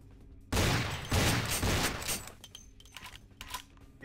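A sudden burst of heavy gunfire in Vampire The Masquerade, a loud fusillade of rapid shots that tapers into scattered fainter shots and clatter.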